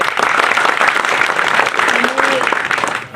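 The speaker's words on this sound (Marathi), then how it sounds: "एकदा सगळ्यांनी जोरात टाळ्या वाजून" A large crowd applauds loudly and steadily at a civic felicitation ceremony held for an MLA, with dense, continuous clapping and a few faint voices mixed in.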